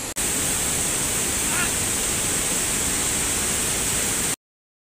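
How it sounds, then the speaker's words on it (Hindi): A big waterfall in a forest rushes with a steady, dense roar that holds constant from start to finish and then cuts off abruptly. "यहाँ से एक तो बहुत बड़ा झरना आता है।"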